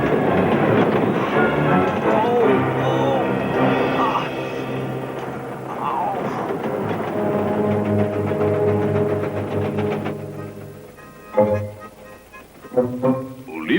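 A train runs steadily for most of the stretch, a continuous rolling rumble mixed with music and voices, with a few sharp louder knocks near the end.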